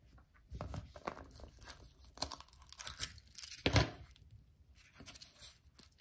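Foil wrapper of a Kinder Surprise chocolate egg being torn open, a few short crinkly rips and crunches close up with quiet gaps between them.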